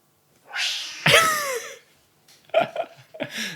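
A person imitates a cat with a voiced yowl and meow-like cries, followed by short choppy vocal bursts, close and fairly loud in a podcast setting.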